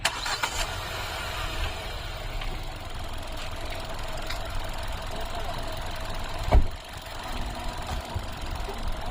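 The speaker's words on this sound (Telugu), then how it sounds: "మీకు ఒకసారి ఇంజన్ సౌండ్ కూడా వినిపిస్తాను" A 2020 Hyundai i10 Nios Sportz with a 4-cylinder engine hums quietly before one short, sharp cranking burst catches, then settles into a soft, smooth idle.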